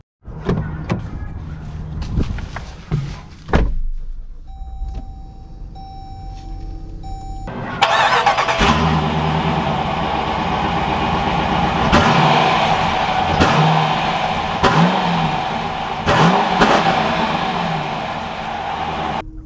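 A Jeep Grand Cherokee High Altitude with the 5.7 Hemi V8: soft electronic chimes give way to the engine catching and running steadily, its loud rumble swelling and falling as it pulls away.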